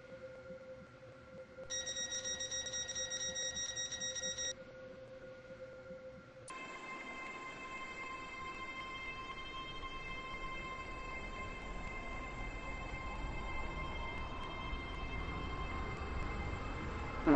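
A passenger train in the Roblox game Stepford County Railway sits with a steady electronic tone, then starts moving with a rising motor whine and a low rumble that builds, with no talking.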